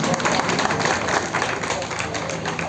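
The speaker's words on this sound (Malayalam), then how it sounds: "ഈ വേദിയിൽ ഒരു വലിയ കയ്യടി നമ്മൾ അവർക്ക്" Crowd applause at an anti-drug awareness event run by the Idukki district police in Kerala, honouring the organizing committee; steady dense clapping fills the whole span at a fairly loud, even level.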